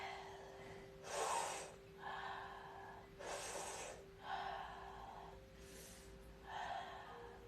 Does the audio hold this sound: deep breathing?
yes